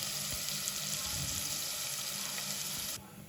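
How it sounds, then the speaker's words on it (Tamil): Masala-mixed meatballs for curry frying in hot oil in a village kitchen, a steady close sizzle and crackle that thins out near the end, with no talk. "இன்னொரு பக்கம் உருண்டை கறி ஃப்ரை ஆகிட்டுருக்குது."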